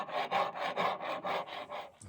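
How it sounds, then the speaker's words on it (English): A rough file rasps back and forth across a wooden workpiece in steady, even strokes, about eight close, loud passes in quick rhythm with no talking. "This is pretty rough file we're using, but we'll move on to a smoother one"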